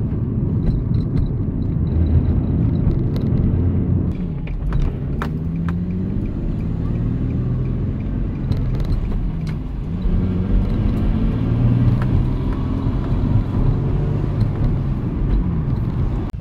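An Infiniti G35 Coupe drives along with a steady, close engine rumble and road noise throughout, the engine note swelling in places as it accelerates.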